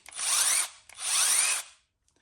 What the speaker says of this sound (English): This is the drill.